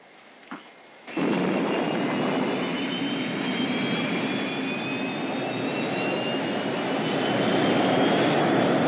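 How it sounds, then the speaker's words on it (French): Spacecraft liftoff sound effect from the sci-fi series Space: 1999: after a brief click and faint murmur, a sudden loud roar bursts in and rumbles on steadily with a rising whine. "Nous venons de décoller."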